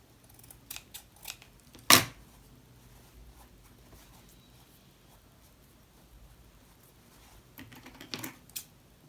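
Scissors snip excess thread from fabric in a sewing project, with one sharp, loud close cut near the start, a few lighter clicks around it and another small cluster of snips toward the end in a quiet room.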